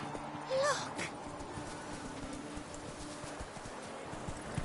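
Roach the horse in The Witcher 3: Wild Hunt, with faint hoof clops on the ground, a brief snort or whinny near the start, and a quiet background throughout.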